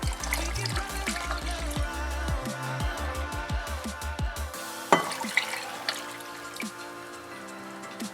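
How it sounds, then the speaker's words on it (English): Water is poured into a container to make homemade pickle brine, with splashing, dripping and trickling sounds that settle into scattered drips after a few seconds. "Now we're going to add in some water."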